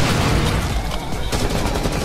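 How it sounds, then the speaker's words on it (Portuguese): Rapid gunfire in the tactical shooter game Rainbow Six Siege, a dense, continuous burst of shots filling the whole moment at close range with no pauses. "Pati, você tá atirando geral aí"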